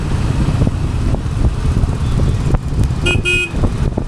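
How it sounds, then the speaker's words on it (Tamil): A motorcycle horn honks twice in quick succession amid steady engine rumble and street traffic noise in Chennai. "பாருங்கள், ஹார்ன் அடிச்சுட்டு இருக்கேன்."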